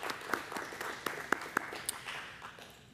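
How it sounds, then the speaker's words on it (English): Scattered applause from a conference audience, a handful of distinct claps standing out over a soft, diffuse patter that thins and fades toward the end. "Let's give him a hand."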